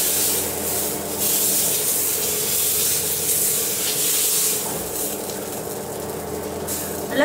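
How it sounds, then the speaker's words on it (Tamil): Adai batter spreads across a hot griddle for spicy kaara adai, giving a steady loud hiss and sizzle that carries on without break from start to finish. "இப்போ நம்ம அடைய ஊற்றிடலாம்."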